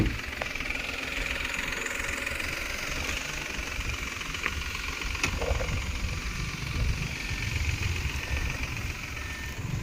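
The mFalcon D75 diesel engine of a Mahindra KUV100 K8 idles with a steady, even rumble and faint knock, continuous and moderately loud throughout with no talk over it.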